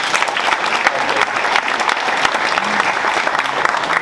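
Audience at a State of the District 2022 address breaks into steady, dense applause, a continuous wash of clapping from a sizable crowd that holds at an even level throughout.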